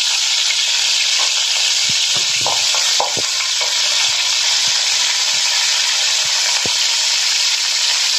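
Mustard seeds sizzle in hot oil with a loud, steady frying hiss, scattered small pops and a few stirring clicks near the start, heard close up with no talking.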